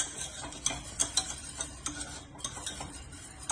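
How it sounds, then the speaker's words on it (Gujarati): A cooking mixture is stirred in a pot, giving soft scraping strokes with small clicking knocks in an irregular rhythm, fairly quiet and close, with no voices. "અત્યારે ખાલી મિક્સ જ કરવાનું છે."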